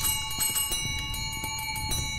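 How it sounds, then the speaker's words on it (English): A bell in the video game Phasmophobia rings with a series of quick, evenly spaced strikes whose bright tones linger, heard fairly quietly with no talking. "Now I get to ring the bell!"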